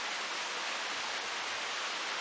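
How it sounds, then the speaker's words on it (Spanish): Steady broadband rush of small waterfalls at Pozo del Indio, a continuous even roar with no variation or voices over its brief span. "Hay un par de cascadas"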